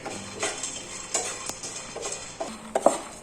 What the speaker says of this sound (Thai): จริงๆก็ถั่วลิสงนี่ก็คั่วไว้แล้วนะครับ แต่เราก็คั่วอีกนิดหนึ่ง